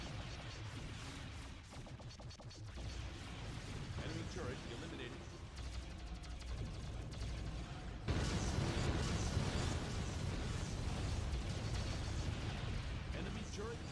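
Starship weapons fire in the space strategy game Star Trek Conquest, a dense, continuous barrage of booming blasts and crackling impacts that swells louder about midway, with a voice talking over it.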